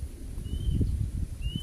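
A bird gives two thin, high whistled calls, well apart, over low rumbling background noise and faint rustling.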